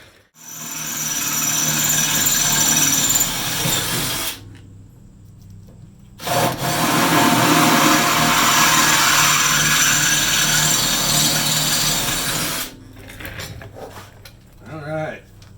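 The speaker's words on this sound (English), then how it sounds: "When this hole's marked, we'll get the drill and the hole's drilled." Power drill boring a hole during a Jeep XJ rear ladder install, two long loud grinding bursts separated by a short pause, followed by quieter clattering handling noises at the end.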